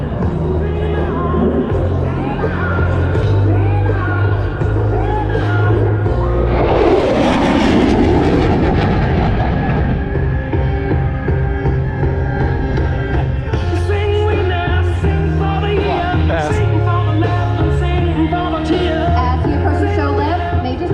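A USAF F-16 Fighting Falcon jet makes a high-speed pass: a loud broadband roar swells and fades over a few seconds mid-clip, set against steady background music.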